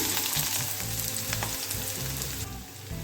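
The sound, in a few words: chopped onion frying in oil in a pan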